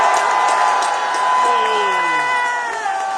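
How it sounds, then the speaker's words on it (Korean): A large crowd at a public speaking event in Busan applauds and cheers, with sustained clapping and scattered shouts and whoops filling the whole stretch at a loud, steady level. "감사의 뜻으로 뜨거운 박수를 한번 보내주십시오."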